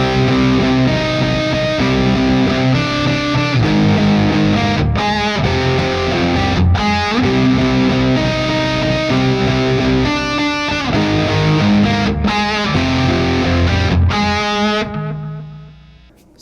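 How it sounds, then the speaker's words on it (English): Heavily distorted electric guitar played through a Peavey Windsor 100-watt amp head with a pedal in the effects loop, loud and continuous, with brief pauses between chugging riffs before ringing out at the end. "let's listen to one more sample with a pedal in the effects loop."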